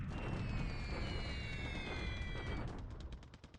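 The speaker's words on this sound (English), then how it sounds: "Okay, we are bombing Rangoon." A bombing raid on Rangoon in the World War II strategy game War in the Pacific, a rumbling burst of explosions under a descending whistle, then a rapid series of thudding blasts fading out.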